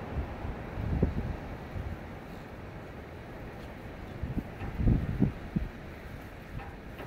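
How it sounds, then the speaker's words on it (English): Strong wind outdoors buffets the microphone in a constant low roar, with heavier gusts thumping through around the one- and five-second marks. "It's very windy outside"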